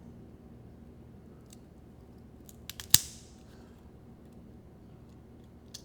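A cutter snips the cap of a Villiger La Meridiana Toro box-pressed cigar: a few faint clicks, then one crisp, close snap, alone over a quiet room.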